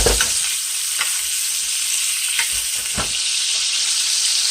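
Lamb steak sizzles steadily in a hot pan of oil, a loud, constant crackle with occasional sharper pops.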